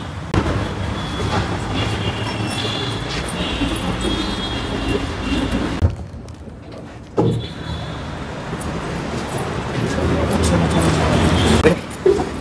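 Continuous rumbling and rattling of a moving metro train carriage, briefly quieting midway before the rolling noise returns, with faint voices in the background.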